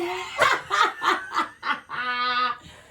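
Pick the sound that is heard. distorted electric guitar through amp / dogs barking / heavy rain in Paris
dogs barking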